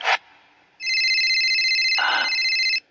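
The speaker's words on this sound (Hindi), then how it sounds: "उसका मोबाइल बज उठा" A phone rings with a steady electronic tone lasting about two seconds, preceded by a short sharp click and joined by a brief noisy burst near the end.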